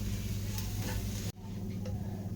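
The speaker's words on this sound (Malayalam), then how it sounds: "പൊടികളുടെ പച്ചമണം മാറുന്ന വരെ നമുക്ക് നന്നായി ഇളക്കി കൊടുക്കാം" Ground spices frying in oil in a pan for Thrissur-style beef, with a steady sizzle and a low hum, a scrape of stirring, a brief sharp cut, then quieter frying.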